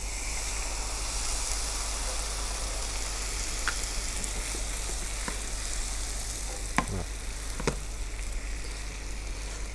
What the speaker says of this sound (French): On va déglacer avec le rhum.